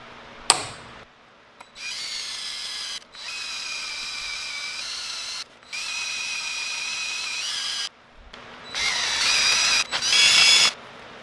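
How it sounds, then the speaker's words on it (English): A power drill whirs in several bursts, drilling a hole in a 1970 Honda CL350 motorcycle handlebar, starting, stopping and restarting, with its pitch rising toward the end. A sharp click comes first. "I'm gonna punch it, drill a hole, and put it on there."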